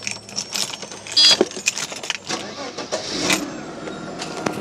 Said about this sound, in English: Let's turn on the car and see where it goes.